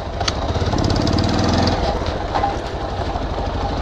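A motorbike engine churns loudly and close during an off-road ride, its rough, throbbing drone running steadily throughout.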